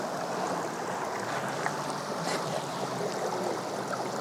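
A small spring meltwater stream runs steadily in a botanical garden, a continuous close-by watery rush and trickle with no talking.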